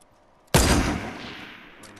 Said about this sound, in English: I'm just shooting into bushes right now.